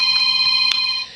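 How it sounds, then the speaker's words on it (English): A mobile phone rings nearby, a brief steady electronic ringtone with a single louder pulse, fading at the end, with no voices. "That's my phone ringing,"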